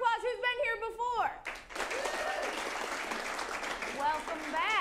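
A talking voice gives way to a burst of audience applause at an improv comedy show in a theater; the clapping swells and holds steady and full for several seconds.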